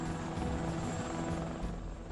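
A Sikorsky UH-60 Black Hawk helicopter supplying a new base in Iraq: a loud, steady rotor and engine roar that holds throughout, close by, with no speech.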